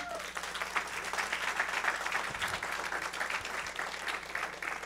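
A church congregation at a Spanish-language sermon claps in a continuous, fairly soft wave, steady and diffuse as if heard from within the hall, with a few low thumps mixed in.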